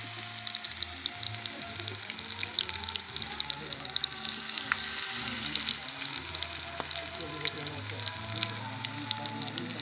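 Potato pasteles frying in oil in a pan, a steady dense crackle and sizzle running the whole time, loud and close, with a voice now and then over it.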